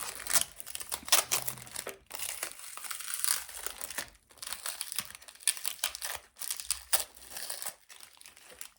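Sticky adhesive tape peeling away along with a label from an orchid pot, heard as close crinkling and tearing bursts in short repeated strokes with brief pauses, no talking.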